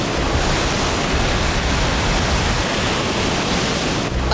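Large waves crash and surge against the Chicago lakefront trail, a loud, continuous roar of churning water filling the whole stretch without a break.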